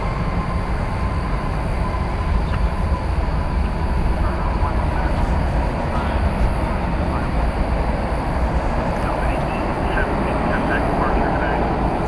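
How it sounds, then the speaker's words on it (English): An American Airlines Airbus A321 arriving from Phoenix at DFW Airport gives a continuous, loud, broadband engine roar that holds steady throughout, with a wind-like rumble and no breaks. "This is an Airbus A321 coming in from Phoenix, Arizona."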